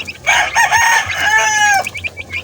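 Chicks and chickens in a coop giving close, loud clucking and squawking calls, several overlapping in quick bursts.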